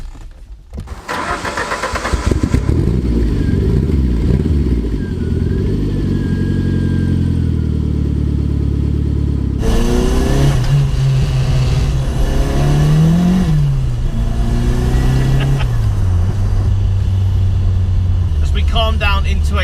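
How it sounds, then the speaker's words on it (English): A Ford Focus RS Turbo starts, idles and then drives along the road, its engine running loud and close throughout and rising and falling as it revs through the gears. "Let's go for a drive."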